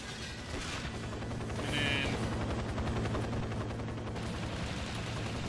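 Rapid gunfire and a missile striking a helicopter in the 007 Nightfire video game, a dense continuous barrage of shots over low engine drone with a brighter burst of impact near the middle.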